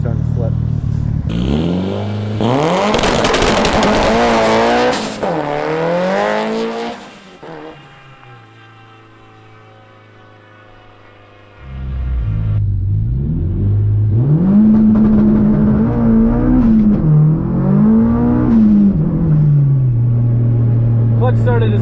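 A drag car makes a hard launch on launch control during a full pass, its engine revving and rising loudly through the gears, dropping to a lower drone midway, then climbing again with strong rhythmic pulls, with talk over parts of it.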